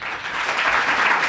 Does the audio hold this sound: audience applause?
yes